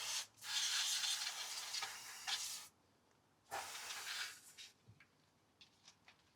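Silicone WD-40 SP90 lubricant sprayed from an aerosol can onto rubber parts of an MK2 Golf, with two longer close hissing bursts followed by a few short quiet puffs between pauses.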